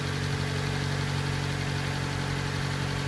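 A Nissan Micra K11 engine with a relocated air filter runs warmed up at a steady idle, a constant, even drone up close with no revving and no voices.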